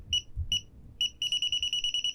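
A DSC Neo touchscreen keypad beeps during alarm arming: three spaced single beeps, then a rapid run of evenly pulsed beeps. All are clear, close and electronic, with no talk.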